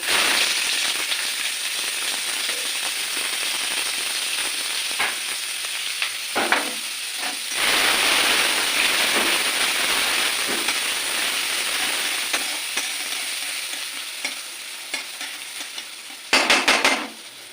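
Onions and green chillies fry in hot oil with bay leaves for a jackfruit and prawn dish. A loud, steady sizzle runs throughout, broken by bursts of crackling and scraping stirs, close up and without speech.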